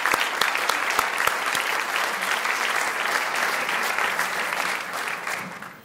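Audience at a Teacher of the Year ceremony applauding school board members: sustained, dense clapping from a large room, steady and loud for several seconds before tapering slightly at the end.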